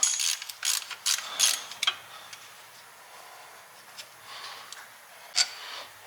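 Socket ratchet wrench clicking rapidly as it loosens a bolt on a manual transmission, bursts of sharp ratcheting early then sparse single ticks, close and fairly quiet.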